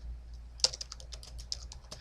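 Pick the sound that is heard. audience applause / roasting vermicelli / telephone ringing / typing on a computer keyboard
typing on a computer keyboard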